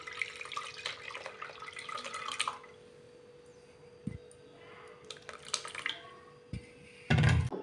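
Water poured into a mashed tamarind and tomato mixture for pepper rasam, heard as a few short, splashy bursts of liquid with quiet dripping and handling sounds between them.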